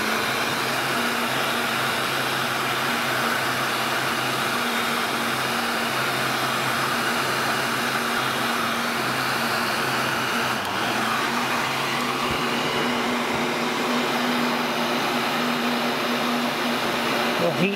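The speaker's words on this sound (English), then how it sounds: "This is an awesome heat gun that was given to me by a viewer some time ago." An industrial-duty heat gun blows at a constant level, a steady loud airy roar with a faint motor whine that holds unchanged throughout, with a voice speaking beneath it.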